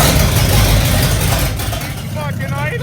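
A Gen 5 big block V8 swapped into a square-body truck idles with a deep, loud, heavy, steady rumble close by, a lumpy throb continuing throughout.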